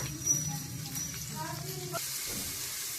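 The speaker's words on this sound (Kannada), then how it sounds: "ಇವಾಗ ಇದು ಸ್ವಲ್ಪ ಫ್ರೈ ಮಾಡ್ಕೊಳ್ಳೋಣ" Food frying in a pan with turmeric and salt, a soft continuous sizzle with light stirring clinks beneath, fairly quiet and close.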